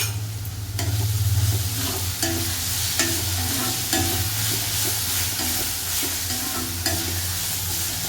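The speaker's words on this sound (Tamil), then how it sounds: "இதில் வந்து இந்த இஞ்சி பூண்டு பேஸ்ட்டு போட்டுருக்கேன்" Ginger garlic paste sizzles and fries steadily in a hot pan, with repeated scraping stirs from a spoon over a constant loud crackle and no voices.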